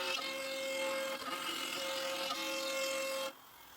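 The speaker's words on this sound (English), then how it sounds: "I chose to use the CNC. Glue down the blue tape, zero the workpiece axis, and then cut the slots." A CNC machine cuts slots into a wooden workpiece taped down for a bandsaw log sled, producing a steady, moderately quiet whine with a brief dip near the middle before the cutting stops abruptly.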